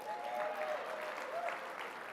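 A banquet crowd at a business hall of fame dinner gives sustained applause to the beverage sponsors, a steady wash of many hands clapping at moderate level with faint voices mixed in.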